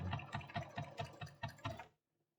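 A sewing machine stitches a placket with a presser foot fitted, a short run of about eight evenly spaced mechanical thumps, close and moderately quiet, then stopping into silence.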